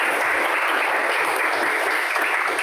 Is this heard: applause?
yes